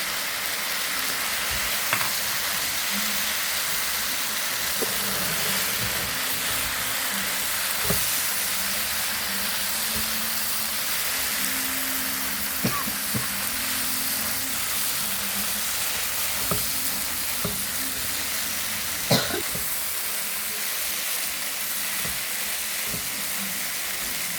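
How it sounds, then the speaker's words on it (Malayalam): Steady frying sizzle as fried egg is tossed and stir-fried with macaroni in a pan, a continuous crackling hiss broken by occasional clinks and scrapes of a spatula. "നമ്മുടെ മുട്ട പൊരിച്ചതുണ്ടല്ലോ അതുകൊണ്ട് ഇങ്ങോട്ട് ഇടുകയാണ്."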